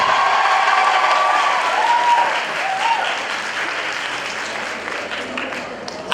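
An audience applauding at a college celebration, a loud sustained wash of clapping that slowly tapers off.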